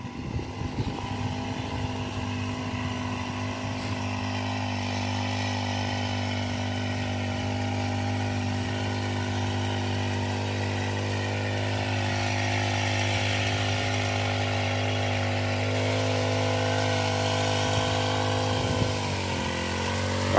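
A motorized sprayer drones steadily throughout, its engine loud and close with a constant tone, while root-growth treatment is sprayed over onion plants in a field.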